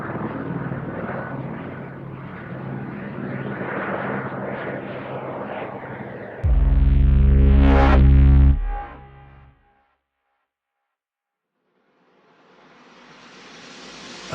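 A rumbling drone of helicopters overhead builds, then a loud deep roar swells and cuts out into silence before a faint rushing noise returns.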